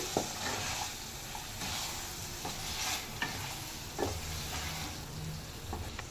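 Chicken pieces stirred with green chilli paste in a hot pan for a chicken pulao, giving a steady soft sizzle with occasional light scrapes and taps of the spoon, close up and with no talk.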